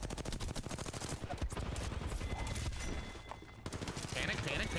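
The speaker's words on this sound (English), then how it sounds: "You gotta shoot the gun." Video game gunfire in a squad battle royale match, dense rapid bursts of automatic shots crackling continuously and loudly through the moment.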